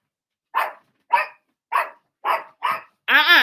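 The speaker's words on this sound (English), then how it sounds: "King, stop it with the barking" A dog named King barks five times in sharp, evenly spaced barks close by, ending in a longer, higher-pitched whining howl.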